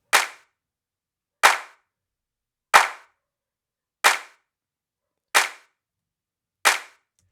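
Electronic drum kit in a home studio mix, six sharp snare-like hits spaced evenly about a second and a half apart, each with a short decaying tail and silence between.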